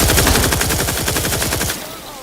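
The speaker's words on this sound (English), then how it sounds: "it fires like all kinds of bullets" Rapid automatic gunfire from a weapon spraying many bullets in The Outer Worlds 2, a dense, loud burst of fast repeating shots that cuts off abruptly near the end.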